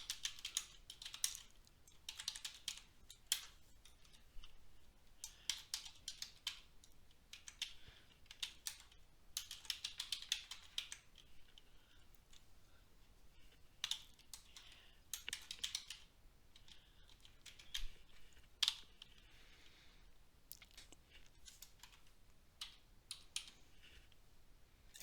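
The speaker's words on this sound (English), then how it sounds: "You just click on a cell and start typing." Rapid bursts of keystrokes on a computer keyboard while entering data into a spreadsheet, quiet and close, with irregular clusters of clicks and short pauses between them.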